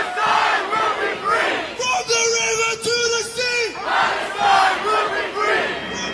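Protest crowd in London yelling and chanting in unison, dense massed voices rising in waves, with a sustained shouted phrase held in the middle before the chanting swells again.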